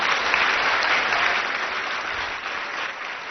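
Audience applause fills a public event in Delhi honouring officials near the Yamuna riverfront: a dense, steady wash of many hands clapping, fairly loud and continuous throughout, with no voices on top.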